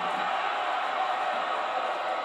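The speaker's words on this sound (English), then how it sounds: "Listen to this ovation." A crowd at an FPW Championship Wrestling match gives a steady ovation, a dense, continuous roar of cheering that holds level throughout without a break.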